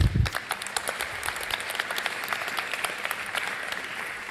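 Audience applause after a live speech, opening with a low thump before dense clapping settles into a steady, moderately loud wash with individual claps standing out.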